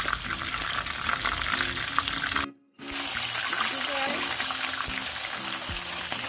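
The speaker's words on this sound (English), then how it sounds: "Do not turn the fish until it's time to flip it. Just let it fry for about 4 or 5 minutes." Fish searing in hot oil in a pan, a steady dense sizzle that drops out briefly, with a voice talking over it.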